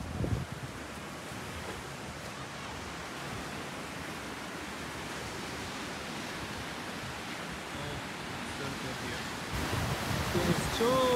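Pacific Ocean surf on the coast of Peru roars as a continuous, heavy wash of broadband noise, steady and loud throughout, swelling slightly at the end with some wind buffeting.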